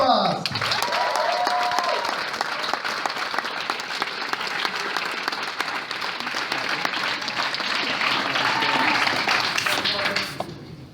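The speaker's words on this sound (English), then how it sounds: "Please give a big, big hand for Crowdfast!" A demo day audience claps loudly and steadily for about ten seconds, a dense continuous patter of many hands that fades out at the end.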